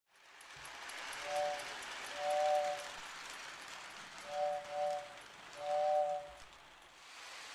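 Lionel model toy train plays its electronic sounds: several short two-tone horn blasts in a pattern over a soft running rumble, fairly quiet and close.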